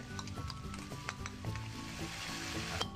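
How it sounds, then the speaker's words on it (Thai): Thai curry paste hits a hot pan over medium heat for an old-style stir-fry and sizzles softly. Crackling spits and occasional stirring scrapes sound close but fairly quiet, with no talking. "นี้เราก็จะมาใส่ พริกแกงที่เราเตรียมไว้นะครับ ใส่ลงไปเลย"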